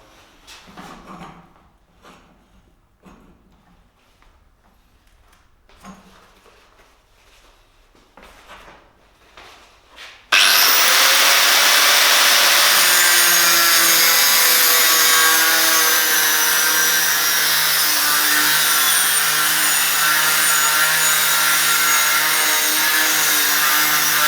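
An angle grinder cutting slots into a press-fit bicycle bottom bracket: after some quiet handling knocks, the grinder starts abruptly and runs loud and steady with a sustained high whine and gritty cutting noise until the end.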